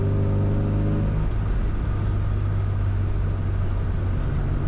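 A Classic Mini in 4th gear at about 40 mph, throttle floored: a loud engine note whose steady harmonic drone breaks after a second into a thick, rising rumble of hard acceleration that continues to the end.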